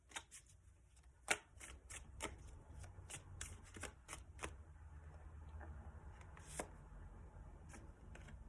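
Tarot cards being shuffled and riffled close by, a run of crisp, irregular snaps and flicks, fairly quiet with no talking.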